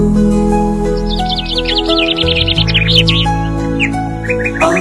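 A bird, presented as a sparrow, chirps in quick repeated tweets over the steady music of a children's Islamic lullaby, with rapid clusters in the middle and a few more chirps near the end.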